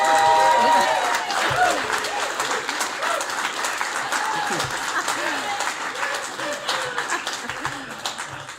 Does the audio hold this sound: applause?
yes